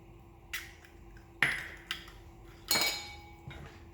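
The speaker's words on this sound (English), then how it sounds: "using a whisk" Wire whisk beating sugar and eggs in a larger mixing bowl, giving several sharp metallic clinks and scrapes against the bowl at irregular intervals, close and fairly quiet.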